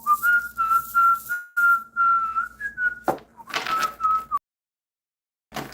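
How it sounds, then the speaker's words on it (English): A person whistles a Marine Corps cadence while walking around, a clear, steady melodic tune held close and loud with short breaks between phrases, a brief knock or clatter partway through, then silence. "I like to just walk around and just whistle"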